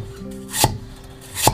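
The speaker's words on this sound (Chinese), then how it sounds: "切片的时候刀要直，一气呵成" A kitchen knife slices through a potato on a cutting board, two sharp chopping knocks spaced about a second apart, close and clear against a quiet room.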